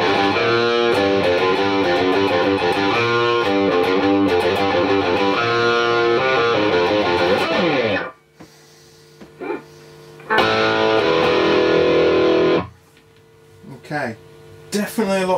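A Marshall AFD100 amp driving Celestion Greenback speakers carries a loud, close distorted electric guitar riff, followed by a quiet gap with faint hum and a second burst of sustained overdriven chords.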